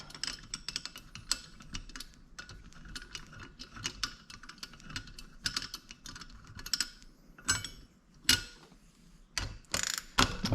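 A ratchet clicks in quick bursts while a bolt is unscrewed on a 4.8 engine build, metallic pawl ticks coming in uneven runs with a few louder knocks and clanks toward the end, close and without talk.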